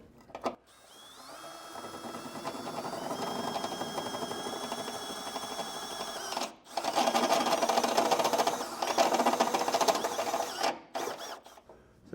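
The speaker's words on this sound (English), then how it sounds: "to make it a little quicker, I'm going to use the step bit first" A power drill with a step bit enlarges a hole while a Class III trailer hitch is fitted to a 2021 Nissan Rogue Sport, giving a loud, close, whining drone in two long bursts separated by a brief pause.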